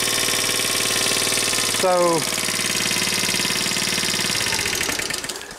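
Small engine running at a steady chugging idle, close and loud, with a brief rising whine as it catches and settles, then fading slightly at the end; a voice briefly speaks over it.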